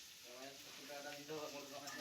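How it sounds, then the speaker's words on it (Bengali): Onion and ginger fry in a pan for a fish curry, giving a faint, continuous sizzle and crackle with a soft voice running underneath. "ভাজা পেঁয়াজ আদা ভাজা হয়ে এসেছে"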